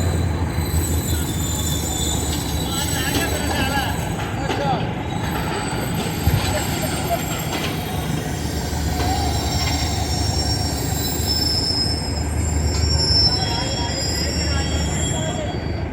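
A continuous high-pitched squeal of the Pak Business Express train's wheels and brakes over a steady rumble of rolling rail cars, loud and close throughout.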